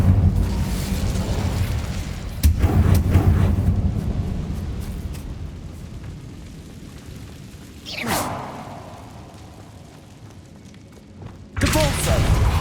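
An Incendio fire spell cast in the Hogwarts Legacy video game: several loud whooshing fire bursts separated by quieter stretches, each one flaring up and then fading out, with no talking.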